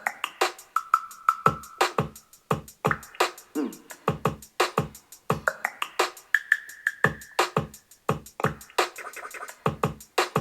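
Lo-fi track built entirely from layered Animal Crossing New Horizons instrument sounds, with steady percussive hits in a regular rhythm under sustained marimba-like melodic tones, loud and continuous throughout with no voices.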